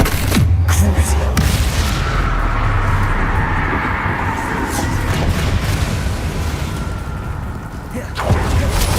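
A Crucio curse is cast in Hogwarts Legacy, with a sharp opening burst giving way to a long, dense, rumbling roar that holds for several seconds before another crack near the end.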